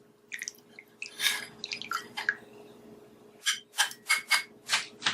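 Tea strained straight into a cup, a run of wet splashes and drips at first, a pause, then a quicker burst of distinct dribbling splashes, close and fairly quiet.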